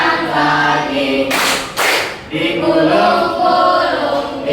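A few quick bursts of hand clapping from a classroom clapping song, set between stretches of children singing.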